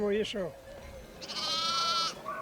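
Sheep bleating in a nearly deserted rural village, a couple of loud nearby bleats, one short and one drawn out, with a voice speaking between them.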